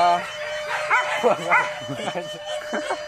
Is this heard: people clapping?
no